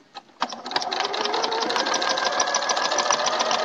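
A sewing machine stitches a row of quilting on a log cabin quilt: a few tentative stitches start it off, then it settles into a fast, steady, continuous whir that stays close and loud.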